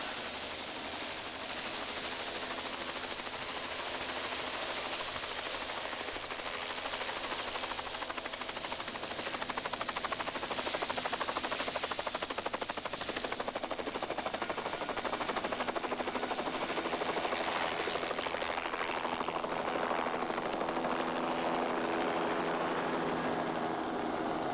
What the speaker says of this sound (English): For the heaviest bears, the easiest way is to use the helicopter.